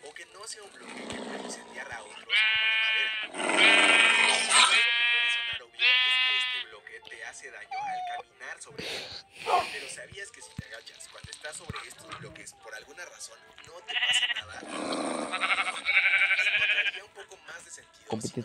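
Sheep in a video game bleat repeatedly in wavering, nasal calls, several overlapping bursts spread across the stretch, with game effects and a person talking in between.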